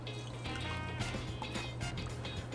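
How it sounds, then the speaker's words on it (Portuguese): Salt goes into water in a dough mixer bowl to make brine for long-fermentation pizza dough, giving soft liquid splashes and trickling over a steady low machine hum, with no talk. "eu já selecionei a água aqui e eu vou colocar o sal aqui dentro mesmo"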